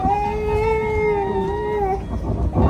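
A cat lets out one long, drawn-out wavering meow close by, followed by a brief softer sound and rustling.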